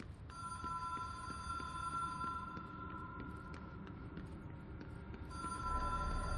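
A hotline telephone in the video game Control rings with a steady electronic tone over a low throbbing hum. It pauses briefly and then resumes near the end, with no talking.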